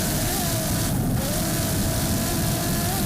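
Offshore racing powerboats roar past at the Miami Offshore Grand Prix off Miami Beach, a loud continuous engine drone with slight pitch shifts, alone with no talk.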